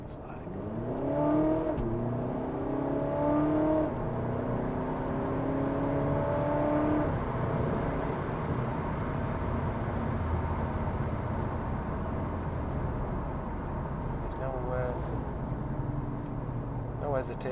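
A remapped 2.0 TDI CUAA diesel car accelerates hard through the gears, its engine note climbing in rising sweeps before settling into a steady loud drone, with a second rise near the end.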